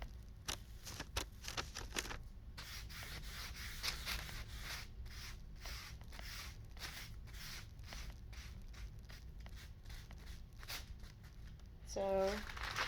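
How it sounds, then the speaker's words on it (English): Wax paper slides and rubs across foam board while making faux wood, giving close, repeated scraping and crinkling strokes that form a steady rough texture for most of the stretch. "My wax paper is sliding so bad right now."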